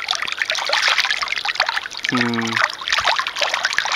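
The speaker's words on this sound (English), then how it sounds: "This little pool is filled with Wasser," Water trickling and dribbling into a small outdoor garden pool, a steady light burble with a brief deeper gurgling splash partway through, heard fairly close.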